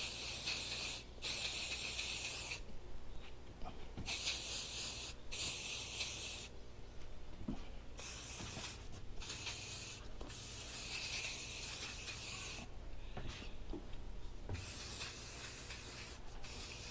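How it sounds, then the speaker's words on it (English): Repeated bursts of insect repellent aerosol spraying, short hisses separated by brief pauses, close by, with no one speaking. "Make sure to put anti-bug spray all over my body."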